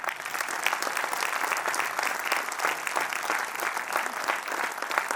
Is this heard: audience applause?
yes